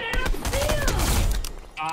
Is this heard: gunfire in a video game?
yes